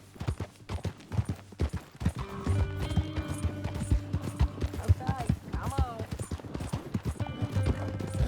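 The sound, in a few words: horse hooves clip-clop in video game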